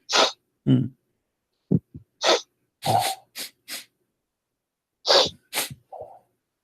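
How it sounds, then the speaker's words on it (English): Several short, sharp nasal bursts spaced irregularly, human sniffs and snorts up close with quiet gaps between them. "I'm just supporting you with some sniffing."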